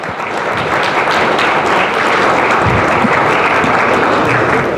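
An audience applauds the President of Nigeria at a high-level dialogue on children and war, with dense, loud, sustained clapping that fills the room evenly throughout.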